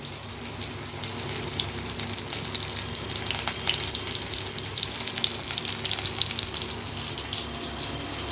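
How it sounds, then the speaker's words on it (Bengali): Fish frying in a wok: a steady, close hiss of bubbling oil runs evenly throughout with no voices. "বন্ধুরা দেখতে পাচ্ছেন যে মাছ কড়াইয়ে দিয়েছি, মাছটা ভেজে নেব।"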